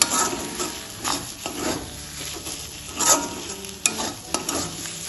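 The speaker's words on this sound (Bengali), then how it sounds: "ধনেপাতা কুচিটা এর সাথে ভালোভাবে মিশিয়ে নেব" Chopped coriander being stirred into a thick taro paste with a spatula, giving repeated scraping strokes over a soft, steady sizzle in the pan, close and moderately loud, with no talking.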